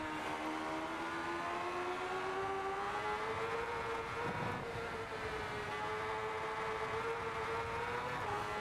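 A race car engine in a racing video game drones steadily after a short shift into second gear, with a continuous buzzing tone that climbs slightly as it revs, loud and even throughout.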